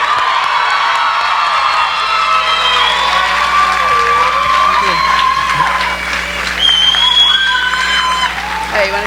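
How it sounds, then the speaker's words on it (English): A student audience at a university international students' show applauds and cheers loudly for an award winner, with continuous clapping, whoops and shouts, and a voice talking over the crowd. "He definitely deserves a huge round of applause."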